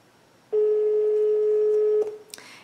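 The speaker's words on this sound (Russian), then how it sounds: "Вот я вам звоню в данный момент, но, к сожалению, не могу дозвониться." A telephone call to a home line fails to get through: one steady, loud telephone tone holds for about a second and a half, then cuts off into brief handling noise.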